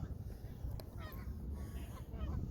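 Waterfowl, likely geese, honk on a park lake at MacArthur Park, giving a few faint, brief calls over low outdoor background noise.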